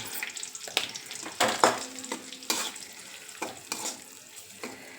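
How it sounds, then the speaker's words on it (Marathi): A spoon scrapes and stirs Everest masala into onion and tomato frying in oil for a Marathi-style chicken fry, with irregular close stirring knocks over a soft sizzle and no talk. "आता त्यामध्ये मी टाकते हा मसाला आणि एव्हरेस्ट मसाला"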